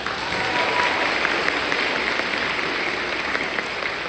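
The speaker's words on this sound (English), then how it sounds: "Let's give them another round of applause." An audience applauds 7th grade honors students at a school awards ceremony, a full, even roar of clapping that stays loud and sustained from start to finish.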